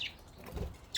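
A pet budgie gives two quick high chirps, one at the start and one at the end of a brief, quiet indoor moment.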